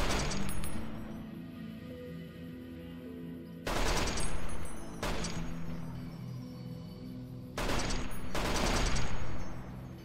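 Bozar rifle in Fallout: New Vegas firing 5.56 rounds in three loud, rapid sustained bursts over a low game ambience, with short pauses between volleys and no talk.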